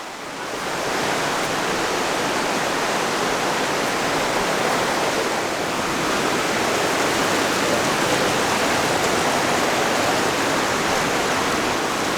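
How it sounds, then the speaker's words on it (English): Waterfall hidden in a dark rocky cleft in a national park, a steady broadband rushing roar that swells in within the first second and holds constant, no voices heard. "You can hear the waterfall now."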